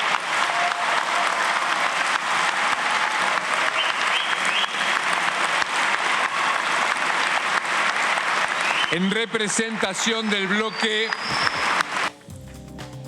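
Dense, sustained applause fills the Argentine Chamber of Deputies for about nine seconds, then a voice starts speaking over the thinning clapping before a brief drop and a few final claps.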